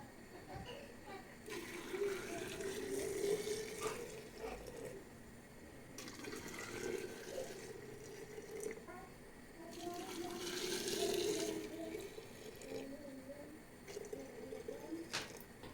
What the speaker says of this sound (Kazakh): Бірінші жартыдан құйып шығамыз.